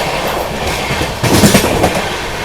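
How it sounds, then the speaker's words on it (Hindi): The Mumbai Rajdhani Express runs at speed near a station, carriages rumbling with a continuous clickety-clack of wheels over rail joints and a louder surge of clatter midway, heard from on board. "ट्रेन की स्पीड देखो बढ़िया स्पीड पकड़ ली है"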